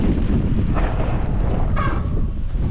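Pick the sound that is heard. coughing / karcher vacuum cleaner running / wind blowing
wind blowing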